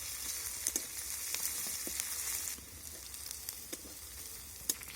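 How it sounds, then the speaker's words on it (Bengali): Onion, ginger and garlic stir-fry in a pan with spring onion and vegetables, a steady close sizzle broken by sharp scrapes and clicks of stirring, slightly quieter after midway. "এখন আমি সব কিছু আবারও নাড়াচাড়া করে ভেজে নেব যতক্ষণ না পর্যন্ত আদা রসুনের কাঁচা গন্ধটা চলে যাচ্ছে"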